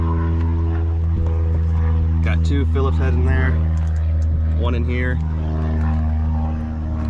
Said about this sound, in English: can that plane shut up?